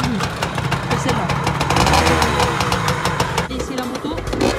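Small Yamaha PW 80 motorcycle engine restarted after stalling, running with a loud, steady knocking idle close by while a person talks over it.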